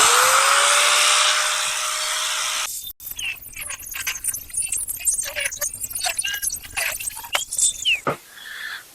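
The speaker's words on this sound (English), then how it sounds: "today I decided I'm going to do it by grinder for a change" A hand-held angle grinder cuts parts off a scrap welder; a steady loud whine opens, then breaks into irregular bursts of grinding and squealing metal contact up close, with pauses between cuts.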